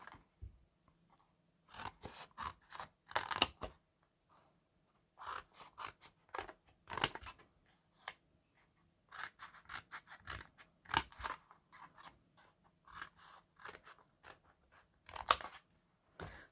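Scissors snip small wedges out of card for a book-style advent calendar shadow box, making quiet, close, crisp cuts in irregular clusters separated by brief pauses.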